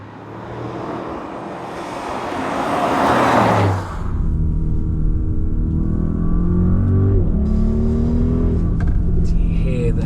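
A 592 bhp Audi RSQ8 engine roars as the SUV accelerates hard, the pitch climbing through gear changes, with wind rush filling the background.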